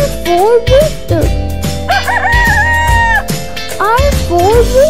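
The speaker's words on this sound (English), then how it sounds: "R for rooster." Rooster crowing loudly and close, a few long wavering calls repeated over a continuous musical backing track.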